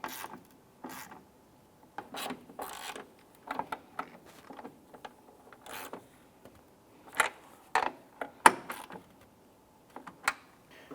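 Nuts being tightened while fitting a tail light on a 2001-2005 Honda Civic: quiet, close, irregular clicks and short scraping bursts from a hand tool, spaced out with brief pauses and no talking.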